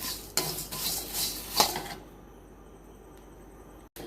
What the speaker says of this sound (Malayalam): എല്ലാം ചെറുതീയിൽ വറുത്തെടുക്കുക.